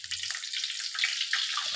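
Garlic drops into a pan of hot oil and fries with a loud, continuous crackling sizzle, close up and steady throughout.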